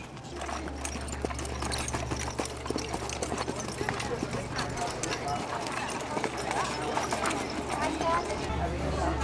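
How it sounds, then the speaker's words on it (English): Hooves of two horses pulling a carriage at a county fair clip-clop in a steady rhythm, moderately close, over a low engine-like hum and under a talking voice. "a ride in a carriage pulled by 2 horses"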